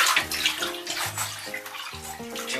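A pet otter swims and splashes in a bathtub of water, with steady sloshing and close splashes running throughout over a tonal background sound.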